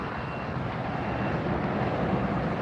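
NetJets aircraft at LAX airport, a steady broadband jet roar held at even level throughout, moderately distant, without talk.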